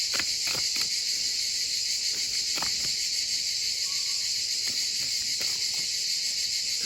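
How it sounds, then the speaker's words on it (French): Cicadas buzz outdoors in July, a dense steady high drone that fills the whole stretch without letting up, with a few faint ticks and rustles underneath and no voices. "C'est magnifique d'entendre ces cigales là."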